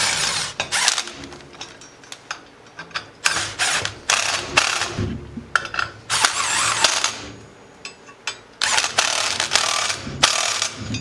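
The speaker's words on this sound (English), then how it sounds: "I'm going to start to torque these down, and normally the clutch will just pop apart." A ratchet torquing bolts on a clutch puller tool fitted to a Can-Am X3 primary clutch, loud close bursts of rapid clicking repeated in strokes with short pauses between them.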